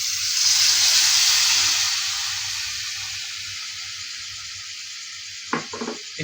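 Bata fish masala fries in a pan, a loud bright sizzle that slowly fades to a gentler hiss, with a few clinks or stirring knocks of a utensil near the end.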